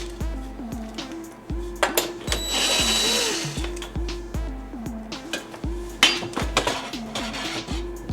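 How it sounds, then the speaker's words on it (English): A powered screwdriver whirs in short repeated bursts while removing Robertson screws from a Wolf microwave, with a rhythmic motor pitch rising and falling and occasional metallic clinks, close and loud. "And we got Robertson screws. And I'll take these screws off."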